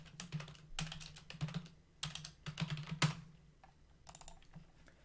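Typing on a computer keyboard, close and fairly quiet, in irregular bursts of quick key clicks separated by short pauses, with no voices.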